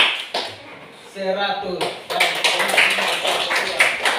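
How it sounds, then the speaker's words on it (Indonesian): Students in an Indonesian classroom clap for a group during a maths lesson, a burst of rapid, dense hand claps that starts partway through and runs on, with a teacher's voice speaking over the start. "Tepuk tangan untuk kelompok 1."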